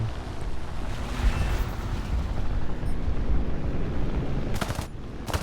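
In the War Thunder video game, bombardment explosions make a continuous low, rumbling roar that carries steadily throughout, with a couple of sharper blasts breaking through near the end and no voices.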